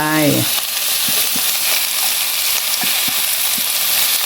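Garlic fries in a pan over medium-low heat, giving a steady, close crackling sizzle with a few soft utensil taps, after a brief voice at the very start.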